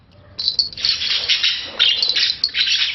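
Dense, high-pitched chirping and twittering from a flock of small birds, bursting in loudly and continuing in busy waves.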